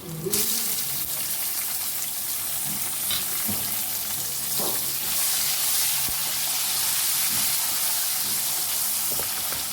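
Water hits a pan of frying garlic-ginger masala for a tomato kadhi, and the steady loud sizzle and hiss rise sharply, then bubble and spit continuously throughout with occasional stirring clinks.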